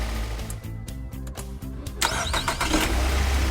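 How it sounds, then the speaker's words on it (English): A car engine is started after a no-start problem: a rhythmic starter motor cranks for about two seconds, then the engine catches and settles into a loud, steady idle close by, with no talk. "Start the car."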